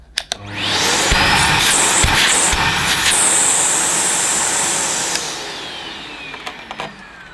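A Miele Boost CX1 Cat & Dog vacuum cleaner with a freshly fitted bag switches on with a click, runs as a loud, steady close whoosh for several seconds, then winds down with a few clunks.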